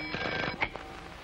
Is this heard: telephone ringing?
yes